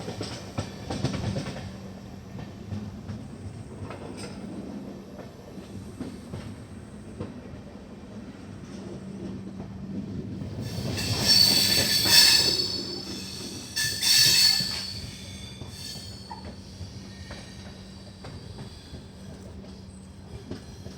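Kashi Vishwanath Express rolling on rails near Gajraula Junction, with a steady low rumble throughout and loud high wheel squeals rising twice partway through.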